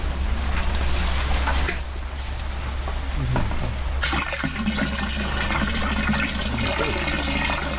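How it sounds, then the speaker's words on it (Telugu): Water gushes into a large drum while preparing jeevamrutham, a steady loud splashing pour that brightens and thickens midway as the flow strengthens, close by. "ఇంకా ఈ డ్రమ్ములో 200 లీటర్ల నీళ్లు తీసుకోవాలి"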